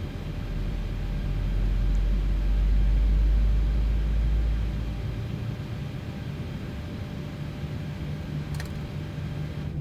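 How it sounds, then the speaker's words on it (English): Simulated Boeing 737-800 in the PMDG flight simulator spooling up engine number 1, a steady low rumble that swells in the first few seconds and then settles into a constant hum, with no talk. "So we get engine number 1 going."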